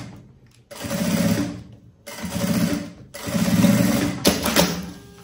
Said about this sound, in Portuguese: vou centralizar aqui e vou passar uma costura aqui na ponta